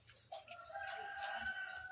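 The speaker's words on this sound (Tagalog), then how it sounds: "tapos may iba pang mga manok" A rooster crows once, drawn out and somewhat distant, amid faint chicken clucks and chirps outdoors on a farm with pigs.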